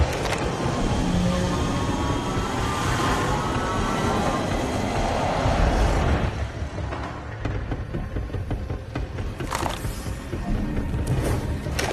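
Rolling rail rumble with steady clickety-clack from a tram ride in a Deadpool VR game, loud and continuous throughout, easing slightly partway before picking up again, with no voices.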